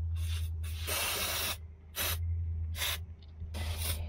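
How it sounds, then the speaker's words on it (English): Bursts of Liquid Wrench penetrating oil are sprayed onto an old crane engine that sat abandoned in the woods, five or six short hissing squirts of varying length separated by brief pauses, up close. "Let me see if I can get some liquid wrench in here."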